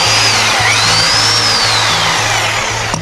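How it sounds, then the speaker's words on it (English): An SDS hammer drill runs steadily in drilling mode with a low motor hum and a faint high whine, the pitch shifting slightly throughout. "that's an SDS hammer drill"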